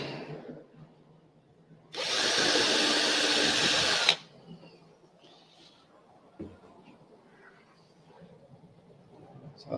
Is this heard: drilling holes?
yes